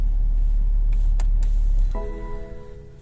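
A car engine fitted with an Autowatch Ghost 2 immobiliser runs with a steady low rumble, a few short clicks, then a tonal hum rises as the engine note settles and fades slightly, close by with no talking.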